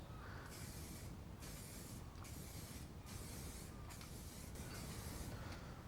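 Spray gun applying a coat of paint to FB Mondial 125 motorcycle parts, heard as steady hissing bursts in a regular on-off rhythm of about a second each, close and fairly quiet, with no talking.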